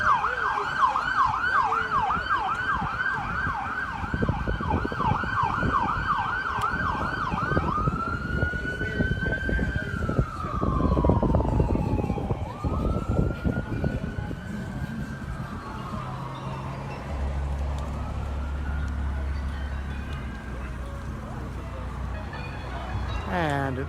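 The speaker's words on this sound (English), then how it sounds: "Oh, an ambulance." An ambulance siren wails in rapid cycles at first, then shifts to a slower rising-and-falling tone as it passes on a busy street at night, with people talking and crowd noise around it.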